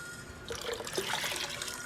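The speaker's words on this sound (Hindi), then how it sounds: "इसमें ज़्यादा सा पानी डालना है, कम नहीं डालना।" Water poured into a kadhi pakora mixture, a steady splashing pour with no talk.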